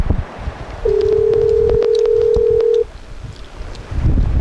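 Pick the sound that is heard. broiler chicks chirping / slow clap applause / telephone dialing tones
telephone dialing tones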